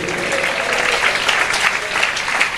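A church convention congregation in a Tamil Christian gathering claps steadily throughout, a dense, even wash of many hands with no voices rising above it.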